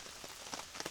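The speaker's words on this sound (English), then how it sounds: "It's raining, so like it's quite moist in the air" Rain at a campsite pattering steadily on a surface, with scattered louder drops standing out over a soft continuous hiss, quiet and close by.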